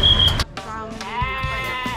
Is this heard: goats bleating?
yes